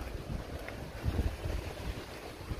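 Strong wind blowing outdoors in a city in Slovenia, a steady rushing roar with heavy low buffeting gusts against the microphone, continuous throughout with no talking.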